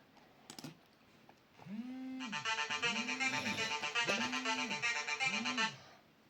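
A phone ringtone plays a repeating melodic pattern, loud and steady for several seconds, after a few faint clicks.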